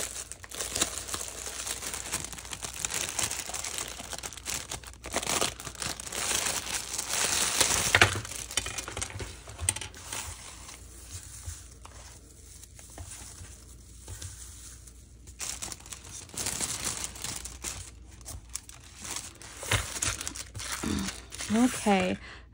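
Stacked envelope swap package being opened, with loud close paper crinkling, tearing and rustling in bursts throughout, and a person talking over parts of it.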